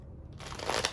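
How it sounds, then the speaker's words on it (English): A deck of cards being shuffled, a short burst of quick papery riffling and crackling that builds over about half a second, close and fairly quiet, with no talking. "I'm just shuffling a deck."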